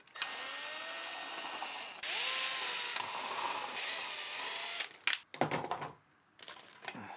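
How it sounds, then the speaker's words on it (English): A power drill spins out the screws holding a ceiling fan mounting bracket, in several whining bursts that rise and fall over about five seconds, followed by clattering and handling noises near the end; no voices. "Remove these screws from the bracket."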